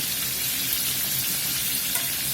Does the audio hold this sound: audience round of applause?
no